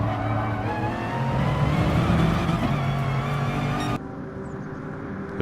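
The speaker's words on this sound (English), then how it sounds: "I could see in the mirrors there is some car coming to pass by" Mustang race car passing in GT Sport, a loud engine roar with shifting revs that swells and then drops away abruptly, leaving quieter engine noise behind.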